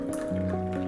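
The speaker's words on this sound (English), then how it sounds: "You just completed your first Gaiwan pour" Tea is poured from a gaiwan in a single brief, close liquid stream that gurgles and fills a vessel, heard alone for about a second under soft background music.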